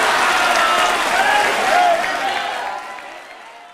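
Crowd applause at a political rally about the Ayodhya Ram Mandir, dense sustained clapping mixed with cheering voices, steady and loud before tapering off toward the end.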